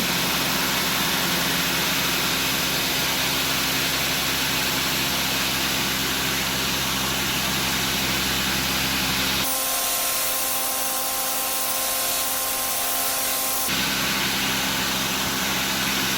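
A belt grinder finish-grinds a thin, heat-treated knife blade: a steady, loud abrasive whir that runs throughout, with a brief stretch of changed, hissier tone midway and no talking.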